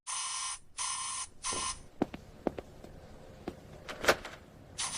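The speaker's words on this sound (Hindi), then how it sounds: "तभी पिज्जा शॉप की लैंडलाइन जोर से बजने लगती है।" A pizza shop's landline telephone rings loudly in three long, bright bursts as a horror-story sound effect, followed by a few sharp clicks and knocks in a quiet room.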